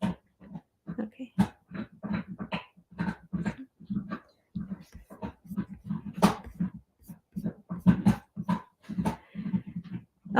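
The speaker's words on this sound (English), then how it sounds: "If you guys can hear my dog chewing on a bone right now" A dog gnawing on a bone nearby, rapid irregular wet chomping and crunching in quick bursts with snuffling breaths, fairly quiet and close.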